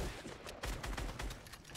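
Rapid video game gunfire crackles in quick successive bursts, sharp repeated shots forming a short, dense volley at moderate loudness.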